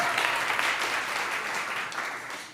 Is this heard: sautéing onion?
no